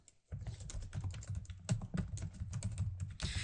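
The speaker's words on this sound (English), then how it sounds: "Let's type this in here." Fingers type on a computer keyboard in a rapid, uneven run of close, crisp key clicks that goes on steadily for a few seconds with no talking.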